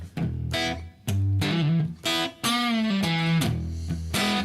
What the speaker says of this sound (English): Put a little bit of echo back on. Just a tiny bit of slap back. Give it some room and a little bit of verb.